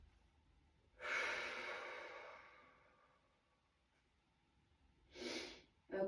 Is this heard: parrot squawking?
no